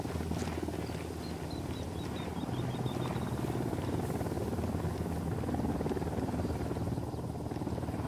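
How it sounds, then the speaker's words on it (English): Helicopter rotor drone in Ghost Recon Wildlands, a steady low throbbing chop that holds loud and unbroken across the whole stretch, with faint high chirps and gunfire-like ticks scattered over it. "Don't need that chopper."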